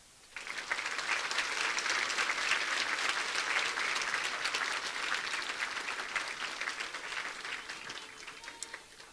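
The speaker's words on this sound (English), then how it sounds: "let's give them a warm applause" At a senior promotion ceremony, an audience gives students a warm round of applause, full steady clapping that starts abruptly and tapers slightly near the end.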